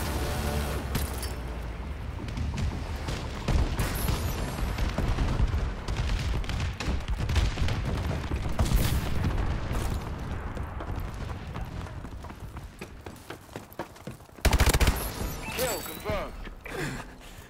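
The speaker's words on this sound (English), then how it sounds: "Friendly bombing run clearing the way" Distant bombs from a friendly air strike rumble and boom through dense Call of Duty battlefield gunfire, one heavy blast landing near the end, with voices occasionally talking over the din.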